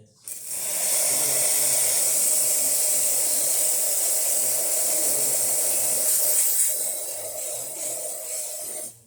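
A steady, rough hiss of a freshly serviced Lelit Bianca espresso machine steam wand runs for about nine seconds, loud and close, with a slight gurgling texture.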